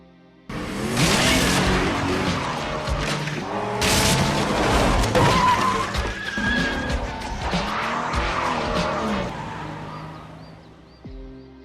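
A car in an action film speeds off with tires squealing and skidding, loud and close, layered with engine roar and dramatic booms for about eleven seconds before cutting off abruptly.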